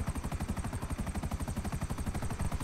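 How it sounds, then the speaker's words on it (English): An attack helicopter in GTA V Online beats its rotor in a fast, steady chopping rhythm, loud and close throughout, with no talk over it. "Maybe you'd like to know that this is an attack helicopter."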